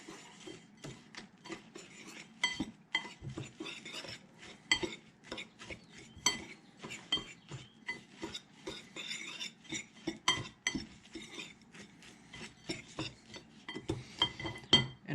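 A cup of cornstarch is mixed in a bowl for a spicy chicken sandwich, heard as quick, light clinks and scrapes of a utensil against the bowl in a fast, irregular rhythm, close and fairly quiet.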